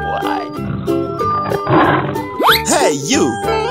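A lion roars in a 3D animal slide game, with gliding, growl-like tones over busy game music and sound effects; a lively voice cheers in the same moment.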